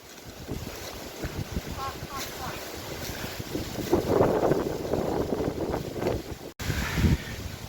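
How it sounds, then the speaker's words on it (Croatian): Strong bura wind gusting at Pusta Bela, roaring as a steady, dense buffeting against the microphone, with brief voices faintly underneath. "Recimo da je ovo zagorska bura."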